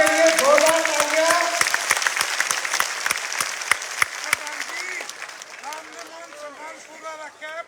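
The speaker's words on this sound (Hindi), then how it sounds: "प्रधान जी के लिए जोरदार तालियां।" A village crowd at a Rajasthan election campaign gathering breaks into loud, sustained applause for the village head, with dense clapping that slowly thins while voices talk and call out over it.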